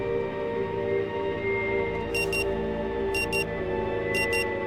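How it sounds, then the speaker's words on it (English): Repeated bursts of a high electronic wristwatch alarm in the video game Rue Valley, beeping in three paired clusters over a steady droning game score, loud and close, with no talking. "The frenetic alarm sound nudges you back to the present."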